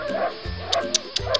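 Cartoon dogs in a Hindi children's story bark and yip several times in quick bursts, loud and close, with whimpering tones between the barks.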